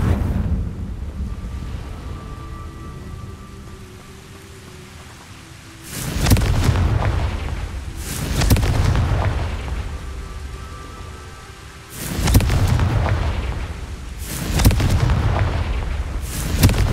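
Confringo blasting spell explosions in the video game Hogwarts Legacy: four or five heavy booming blasts, each a loud surge with a rumbling tail, spaced roughly two seconds apart in two clusters, over a quieter ambient bed.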